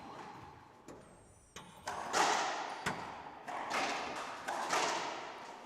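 Squash ball struck repeatedly during a women's quarterfinal match at the Canadian national championship, with several sharp, hollow thuds spaced about a second apart against a quiet court background.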